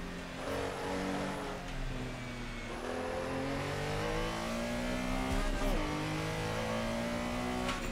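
A Porsche Carrera race car in Assetto Corsa drones steadily at high revs with gear changes, its engine note rising and falling close up through an eight-second run, with a voice talking over it.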